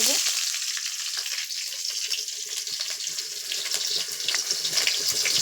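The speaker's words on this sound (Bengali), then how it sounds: "পেঁয়াজটা ছেড়ে দেবো।" Onions dropped into hot oil, giving a loud, continuous hissing sizzle that stays steady and close for several seconds with no talking.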